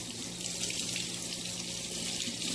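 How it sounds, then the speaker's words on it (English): Hands being washed under a running kitchen tap, with a steady close stream of water splashing into a sink and no talking. "Let me wash my hands."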